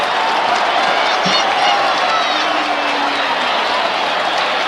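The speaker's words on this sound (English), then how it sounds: "The crowd have gone wild." A stadium crowd roars and cheers wildly at a 1970 Brisbane rugby league grand final between Valleys and Norths, a dense, loud, sustained wash of voices with whoops and clapping.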